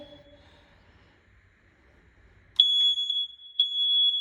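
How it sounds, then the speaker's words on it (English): After quiet low rumbling, a piercing electronic smoke alarm test tone blares close and loud in a hallway, holding steadily for over a second with brief dips. "it tells me that it needs a new smoke alarm"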